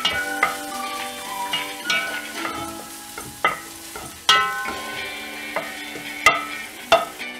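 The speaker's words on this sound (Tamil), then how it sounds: "இஞ்சி ஆட் பண்ணிவிட்டு இதை நல்லா ஃப்ரை பண்ணணும்." Onions and grated ginger fry in a pan for chicken soup while a utensil knocks and scrapes in irregular sharp clacks over a soft background sizzle, close and fairly loud.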